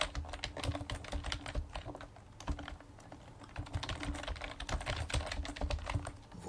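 Keys clatter as text is typed into a LibreOffice Calc spreadsheet cell. The tapping is close, continuous and uneven, with no talking.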